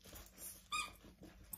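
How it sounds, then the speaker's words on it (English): A squeaky dog toy from a BarkBox, shaped like a noodle cup, gives a couple of short, faint squeaks close by, with soft handling noises between them. "They'll have a squeaky packet of pure love and MSG."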